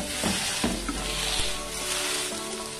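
Homemade ground beef patties sizzling in a frying pan, a loud, continuous close-up crackle with a few brief scrapes or presses mixed in.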